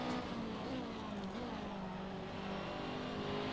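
A simulated race car engine in Assetto Corsa hums at a steady sustained pitch, rising slightly in revs, a continuous droning tone without talk.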